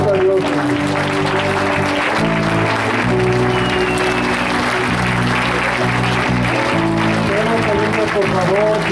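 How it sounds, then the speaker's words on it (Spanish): A church congregation applauds loudly and steadily for about nine seconds while music and voices carry on over the clapping. "Denle un fuerte aplauso a Dios."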